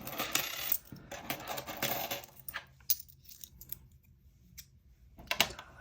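Dollar coins from a work vending machine are handled and counted, producing a series of bright metallic clinks and clatters, several sharp taps close by with quieter pauses between.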